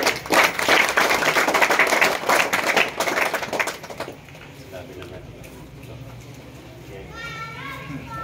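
A burst of loud crowd applause at a wrestling winners' felicitation ceremony for about four seconds, then it drops off abruptly to a quieter room with faint voices and chirping.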